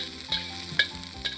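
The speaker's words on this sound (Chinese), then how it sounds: "等到油热了就把葱段下锅来爆一下" Scallion pieces frying in hot oil in a wok, a soft sizzle with three light crackling spatters spaced evenly over a moment, close and without talk.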